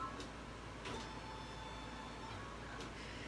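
An embroidery machine stitches a coffee cup wrap in the hoop, giving a steady mechanical whir at a constant moderate level with faint periodic ticks throughout.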